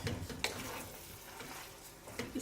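Drained boiled pasta is stirred into cooked minced keema in a pan, giving soft scraping and clinking from a utensil against the pan over a faint sizzle, with a couple of sharper knocks.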